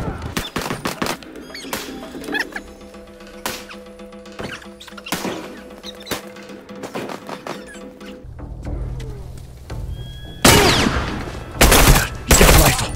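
Rifle fire in The Last of Us Factions, a Supply Raid match on the Coal Mine map, with repeated sharp cracks in bursts, a loud cluster of shots near the end, and game background ambience between them.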